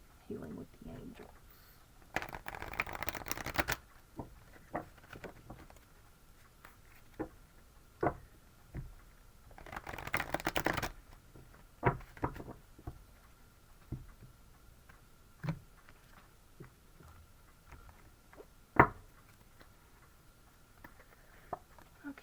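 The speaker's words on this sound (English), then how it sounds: "I'm going to pull some oracle cards to see if we can get a little more clarification on this situation" Healing with the Angels oracle cards being shuffled and pulled, giving two brief rustling shuffle bursts and scattered soft taps and snaps of card handling, with a voice talking quietly throughout.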